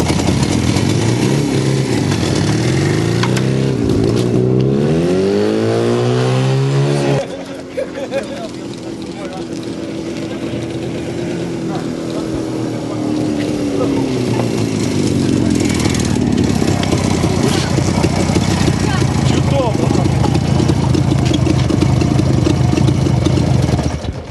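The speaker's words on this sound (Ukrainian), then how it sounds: "Приємно, що ви обратили внимание на мій мотоцикл." Old motorcycle engine idling close by for a long stretch, its pitch rising and falling as it revs and settles, with a brief drop in the middle and people talking over it.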